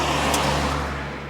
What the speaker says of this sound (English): let the car go past